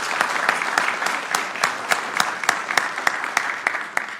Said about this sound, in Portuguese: merece um aplauso grande, verdade?